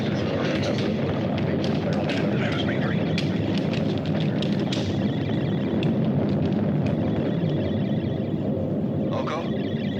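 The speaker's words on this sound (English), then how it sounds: "Mila, check the distance of the stellar explosion" Rumbling stellar explosion sound effect from a 1977 sci-fi space film, a loud continuous roar with crackling bursts that runs the whole clip, with speech-like layers mixed in.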